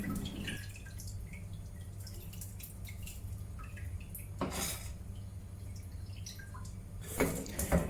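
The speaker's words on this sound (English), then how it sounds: "pour the starchy water into another container" Starchy water left from washing homemade seitan dough is poured into another container, with clinking of pots and bowls and a steady trickle through a quiet kitchen, a louder splash and clatter midway and again near the end.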